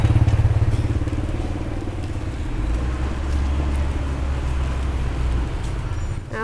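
A motorbike is ridden through town to the market. Its steady, loud engine drone carries continuous road rumble and passes close by throughout, with a faint short chirp near the end.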